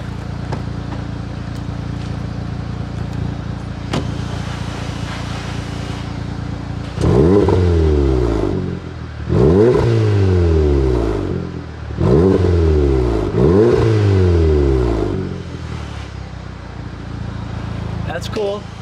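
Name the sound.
APR Stage 2 Golf R engine revving with exhaust growl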